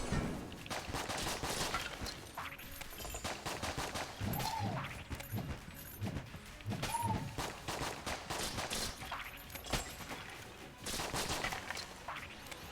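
Rapid, dense gunfire from a weapon in the video game Enter the Gungeon, bursts of shots rattling continuously at steady loudness across the whole stretch with no talk.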